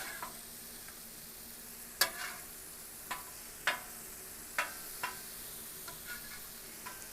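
Beef burgers and pork sausage patties cook on a griddle with a soft, steady background sizzle, broken by a handful of sharp ticks and pops spaced a second or so apart.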